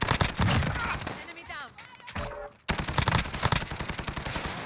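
Rapid automatic gunfire in the Call of Duty Modern Warfare video game, dense loud bursts that stop briefly mid-way and then resume, with a voice talking over the shooting.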